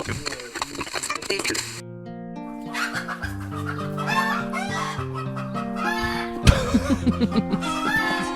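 Chicken clucking as a sound effect, a busy layered run of clucks and squawks played loudly over music, with people talking and laughing.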